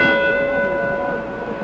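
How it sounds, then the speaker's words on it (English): Ringing bell marking the start of round four at a heavyweight championship boxing match between Floyd Patterson and Ingemar Johansson, a loud sustained metallic tone decaying slowly over arena crowd noise. "Bell for the 4th"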